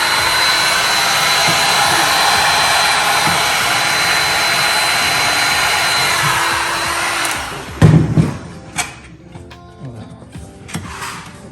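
A heat gun blows hot air steadily to soften plastic while a rimless aquarium tank is converted, a loud continuous whoosh that cuts off partway through, followed by a few clunks and handling knocks.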